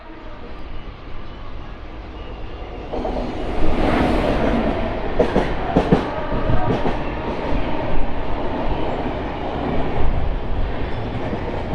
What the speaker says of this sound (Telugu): ప్రశాంతి ఎక్స్ప్రెస్, భువనేశ్వర్ బెంగళూరు ప్రశాంతి ఎక్స్ప్రెస్ ఇది.